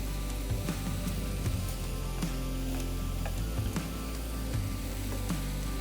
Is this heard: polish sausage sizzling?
yes